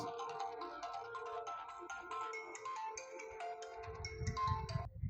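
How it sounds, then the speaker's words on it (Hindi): A mobile phone ringtone plays an incoming-call melody for about five seconds, a bright repeating tune that stops abruptly near the end as muffled handling noise follows, with no talk over it. "एक फ़ोन आ गया था"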